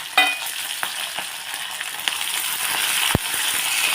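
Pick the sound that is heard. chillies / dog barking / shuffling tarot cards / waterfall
chillies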